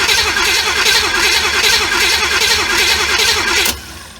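A Small Block Chevy V8 in a 1936 Chevy Coupe cranks over steadily on the starter with a loud, rhythmic whirring chug for several seconds without firing, then cuts off abruptly.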